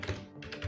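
A brief moment of computer keyboard typing, a couple of soft muffled key clicks close by in under a second, with no speech.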